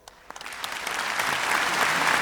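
Applause from a single clapping centipede in the animated show The Amazing Digital Circus: a few scattered claps that quickly swell into a dense, rising wash of clapping.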